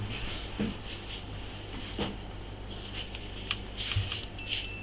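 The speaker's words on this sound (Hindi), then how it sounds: "बीप आ रहा है।" A multimeter set to continuity range gives a few short, high beeps while its probes test a Dell Vostro 2520 laptop motherboard, heard near the end over faint hiss and light clicks.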